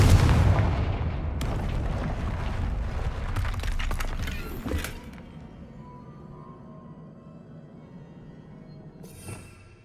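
A Confringo blasting spell explodes in Hogwarts Legacy, a dense, rumbling burst of crackling blasts that rolls on for several seconds before fading into quieter game ambience with a faint late flare.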